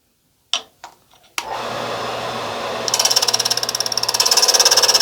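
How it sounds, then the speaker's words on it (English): A power sander whirs steadily against a dull, rough surface after a few handling knocks, its motor buzzing loud and close with a pulsing rhythm toward the end. "I'm going to probably sand this out a little bit better"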